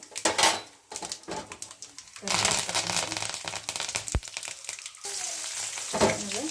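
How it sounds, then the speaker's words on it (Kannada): Onions, green chilies and tomato sautéing in a pan for upma, giving a busy crackling sizzle with stirring and pan clatter, with bursts and pauses across the clip. "ಉಪ್ಪಿಟ್ಟು ಈರುಳ್ಳಿ ಮತ್ತು ಹಸಿಮೆಣಸಿನ್ಕಾಯಿ ಹಾಕ್ಕೊಂಡು ಹಂಗೆ ಟೊಮೆಟೊ ಹಾಕ್ಕೊಂಡು ಸ್ವಲ್ಪ ಬಾಡಿಸ್ಕೋಬೇಕು"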